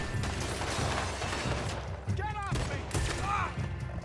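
Gunfire in a Red Dead Redemption 2 shootout with an enemy, rapid shots and clattering bursts over a dense, continuous battle din, with voice-like activity in the mix.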